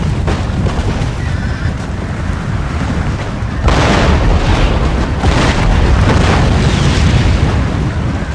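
Battle explosions and cannon fire from the strategy game Empire: Total War form a loud, dense, continuous rumble with booming bursts, growing heavier partway through.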